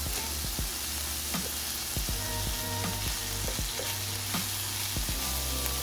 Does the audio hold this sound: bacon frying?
yes